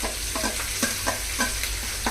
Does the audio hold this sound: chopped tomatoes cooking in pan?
yes